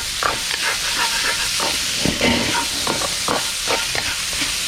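Pancetta renders in a wok with a steady, close sizzle and frying crackle throughout, punctuated by occasional stirring scrapes and no talking.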